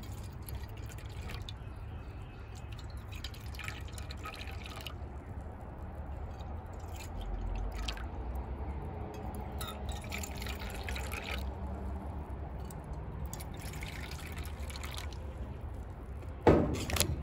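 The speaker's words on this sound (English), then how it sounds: "We're going to pour a little bit of water into the cups." Water pouring gently into cups for mixing homemade watercolor paints, a soft continuous trickle with faint drips close by, steady throughout with a brief louder knock near the end.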